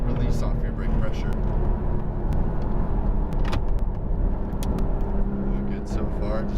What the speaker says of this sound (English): Brake firm, downshift, and release off your brake pressure.